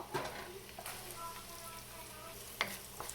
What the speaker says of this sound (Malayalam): കടുക് പൊട്ടി വരുന്നതുകൊണ്ട് ഞാൻ അതിലേക്ക് അരിഞ്ഞു വെച്ചിരിക്കുന്ന സവാള ആഡ് ചെയ്ത് കൊടുക്കുക